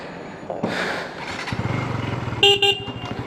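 A motorbike starts up on a village road in Hassan, with a short whirr followed by the engine catching into a quick, loud rhythmic putter, and two sharp horn toots sounding near the end.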